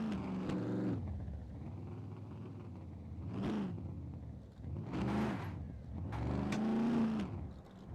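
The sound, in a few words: car handbrake turn in the video game Scum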